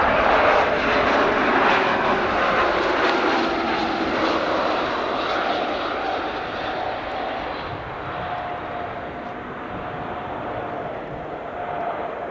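Jet aircraft landing on runway 26 left at Spirit of St. Louis Airport, a steady loud engine roar that slowly eases and fades as the plane passes, with no talk.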